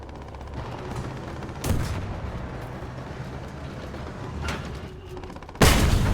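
Heavy gunfire bursts in the War Thunder tank battle game, a few loud booming impacts over a constant rumbling engine drone, with sharp blasts near the start and end.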